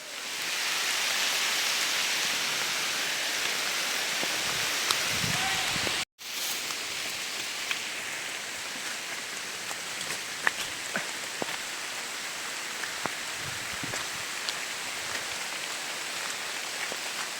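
Steady May rain falls hard and close on a mango orchard, a continuous hiss with scattered sharp drops tapping on a surface throughout.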